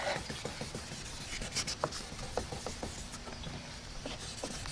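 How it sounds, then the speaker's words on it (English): Steady scratchy rubbing of sandpaper worked by hand on a headlight lens, close and continuous with small uneven strokes and light taps throughout. "So I'm sanding it with my hand"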